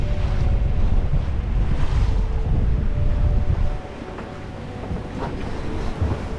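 A sailboat on the Atlantic, sailed solo and beating to windward on a grey evening in gusty wind, gives a steady rush of wind and sea. The roar is loudest at first, then eases and stays steadier.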